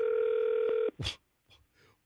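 A phone ringback tone on an outgoing call to a toll-free number: one steady, loud tone that cuts off after under a second, followed by faint voices.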